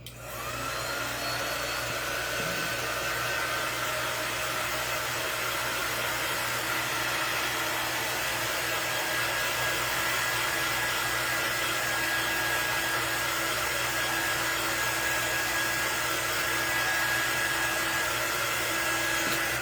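A hair dryer drying a wood pumpkin craft cutout runs as a steady loud, close whine and blow throughout, alone with no talking.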